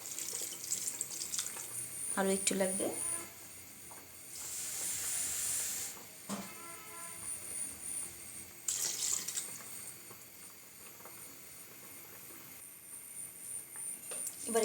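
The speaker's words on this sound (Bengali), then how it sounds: "দিয়ে দিচ্ছি পানি," Water pours into a pot of mola carplet fish curry in two hissing, splashy bursts separated by quieter kitchen sounds, with a short spoken remark early on.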